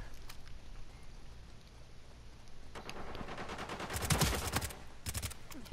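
Gunfire in an online shooter match, quiet at first with a few scattered shots, then a cluster of sharp, crackling bursts toward the end, fairly faint and without talk.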